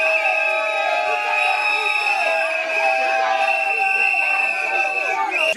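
Large crowd cheering and shouting at a voter-registration outing in Kimbanseke, Kinshasa, a dense, steady roar with shrill whoops and voices layered throughout, loud and continuous for the whole stretch.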